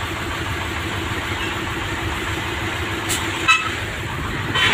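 Philippine road traffic with trailer trucks: a steady broadband engine rumble and idling throughout, with a short horn toot near the end and no talking.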